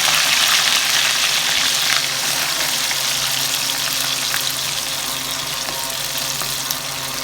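Loitta dried fish frying in hot oil, a loud, dense, continuous sizzle close up that holds steady and eases slightly toward the end, with faint crackles scattered through; nobody talks.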